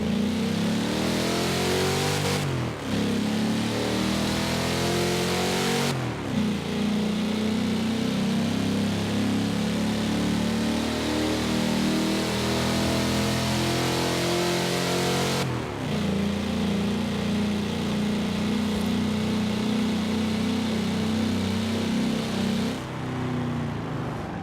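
Car engine in the Forza Horizon 4 racing game revving and shifting, rising through the gears in repeated sweeps with short dips between, loud and continuous without talk.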